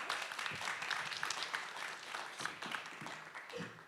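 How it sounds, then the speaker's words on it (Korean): Applause from an audience at an energy summit, welcoming a guest speaker to the stage; steady dense clapping at moderate level throughout, fairly distant, with no voices over it. "큰 박수로 맞이해 주시기 바랍니다."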